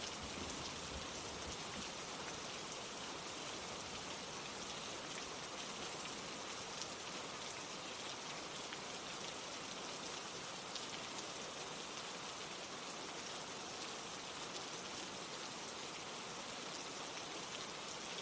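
Steady rain falls at midnight as a constant, dense hiss of drops on surfaces, unbroken for the whole stretch, with no voices.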